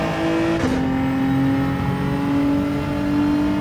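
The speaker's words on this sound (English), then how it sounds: "balance on the throttle and accelerate out early" A Genesis G70 GR4 race car in Gran Turismo 7 at Watkins Glen Long, its engine droning loud and steady, with a quick shift partway through before it pulls on at a high, sustained pitch.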